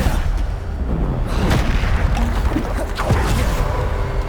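Bombarda blasting spell in Hogwarts Legacy, sounding as heavy booming explosions with a deep rumbling low end and sharp impacts near 1.5 and 3 seconds, loud and continuous, with no talk.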